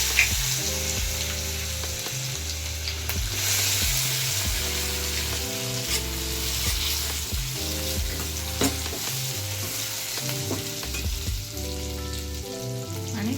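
Peanuts frying in hot oil for a homemade Marathi sweet-tangy dal (varan), a steady close sizzle running for the whole stretch beneath a louder melodic music track.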